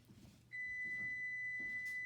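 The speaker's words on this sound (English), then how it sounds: "so that's my alarm. It's not a fire alarm, just my oven alarm." A home oven timer alarm sounds while chicken bakes: a single sustained electronic beep tone that starts abruptly and holds steadily, fairly loud and close, over a quiet room.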